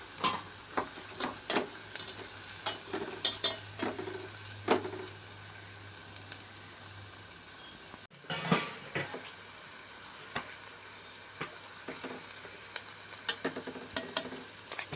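Soft, steady sizzling of salted onions sautéing in a pan, with occasional stirring clicks and scrapes, close and fairly quiet.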